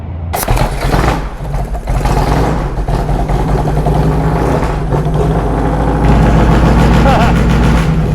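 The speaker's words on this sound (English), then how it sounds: "This tattoo bike is loud now. Loud pipes save lives." A Springer-front custom motorcycle with loud exhaust pipes roars steadily while riding, its deep engine note close and loud throughout with brief rises in throttle.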